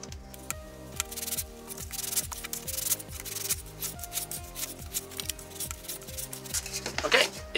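Repeated back-and-forth sanding strokes rounding the edges of small miniature terrain pieces such as a stone altar, steady rhythmic scratching close to the mic, with a voice briefly present.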